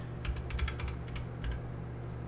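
Key switches clack in quick bursts as a staggered mechanical keyboard is tested after being plugged in, with brisk uneven strokes close to the microphone over a steady low electrical hum.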